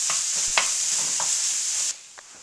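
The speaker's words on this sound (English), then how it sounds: "Now we add some spinach for color. Stir it in." Spinach is stirred into eggs in a hot pan, a steady sizzle with a few scraping spatula strokes, close and alone, before the frying hiss drops away near the end.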